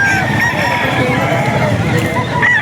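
Roosters crow in a dense, continuous chorus at a game farm, layered with clucking and the bustle of a crowded flock.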